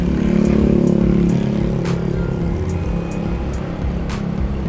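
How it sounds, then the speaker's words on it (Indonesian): A luxury car's engine, started by remote, idles with a steady low rumble close by, with faint ticking and clicking sounds scattered over the running engine and no talking. "kita sudah bisa hidupin mobil itu dari remote-nya"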